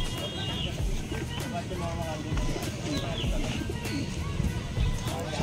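Madrasi pigeons cooing at a busy Kolkata pigeon market, soft coos and flutters recurring close by amid constant crowd chatter and market bustle.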